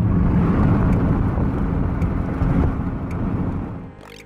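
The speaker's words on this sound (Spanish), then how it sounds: "este fue grabado desde un coche a 60 kilómetros por hora." Recorded inside a car moving at 60 km/h, a steady low road-and-engine rumble fills the cabin, then eases and fades near the end.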